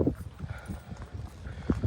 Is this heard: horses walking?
yes